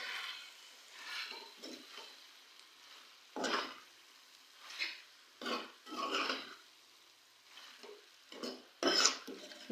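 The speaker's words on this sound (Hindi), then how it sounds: "अब हम इन चीज़ों को मिक्स करेंगे" Green chillies and fresh coriander being stirred and mixed in a pan, with intermittent scraping strokes and soft sizzling in short bursts at close range, no talking.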